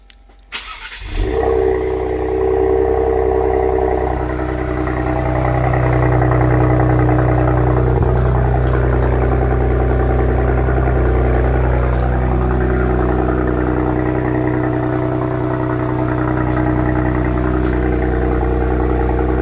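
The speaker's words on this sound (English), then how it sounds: "this is the idle cold start" A 2021 Ford Explorer ST fitted with an MBRP axle-back exhaust in place of the mufflers fires up from cold, then settles into a loud, steady, deep idle with a faint whine on top.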